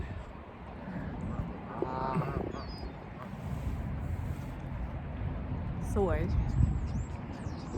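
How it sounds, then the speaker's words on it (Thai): Ducks quack a few times in the distance while people chat nearby over outdoor background noise. "นี่มานั่งดูเป็ดกันทุกคน"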